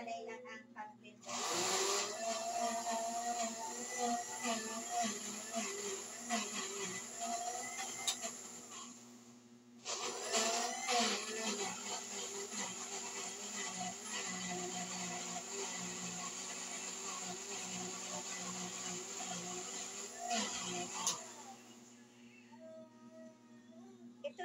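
A blender whirs loudly and steadily, stops briefly, then runs again for a long stretch before shutting off, with faint voices around it.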